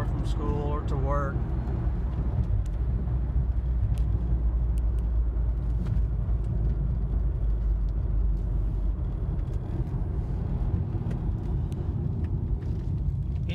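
A Volkswagen car engine runs while driving, producing a steady, loud interior rumble of engine and road noise throughout.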